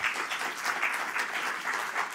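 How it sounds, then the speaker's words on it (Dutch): An audience claps for a lecturer at a university Studium Generale talk on the history of punishment, a steady dense round of applause that stays fairly even throughout. "nogmaals te vragen om een groot applaus"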